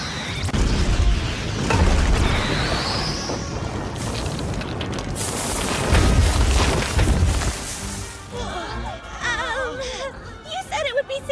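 A Fire Bullet spell goes off in an anime training ground, bursting into a loud, dense boom and crashing rumble that sustains for several seconds. Voices cry out as the blast tails off.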